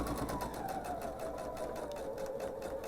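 A sewing machine runs steadily, stitching a quilt border in a slow, continuous whir with a rapid needle rhythm, close and fairly loud, with no one talking.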